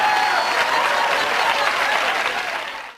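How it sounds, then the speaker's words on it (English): A sitcom studio audience bursts into laughter and applause, a dense, loud crowd sound that holds steady before fading out at the end. "The laugh track."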